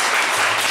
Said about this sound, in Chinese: 我们是不是给他一点掌声？